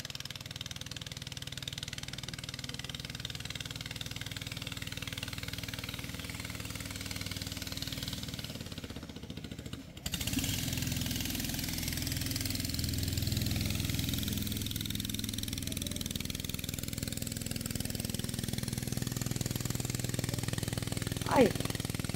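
Steady droning of six motorboat engines approaching runs throughout, with a shift partway through and faint voices underneath.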